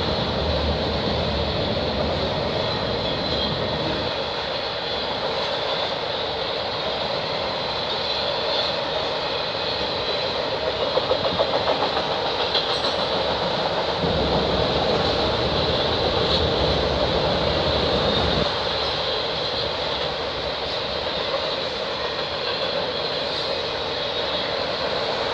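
A long CN freight train of empty auto rack cars rolls past in Milton, Ontario, a steady loud rumble and rattle of wagons sustained throughout with shifting clanks, no voices.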